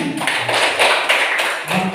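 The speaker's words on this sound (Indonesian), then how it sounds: "Tepuk tangan." A small classroom group claps hands in a few short bursts, close and fairly loud, with brief pauses between the rounds of clapping.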